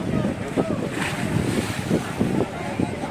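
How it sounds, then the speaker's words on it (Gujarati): Sea waves at Dwarka wash and break nearby in steady surges, with wind buffeting the microphone throughout. "મસ્ત મોજા મારે છે"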